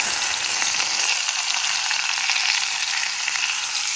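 Onion and capsicum fry in a pan at a forest campsite, a loud, steady sizzle that fills the whole clip with no talking.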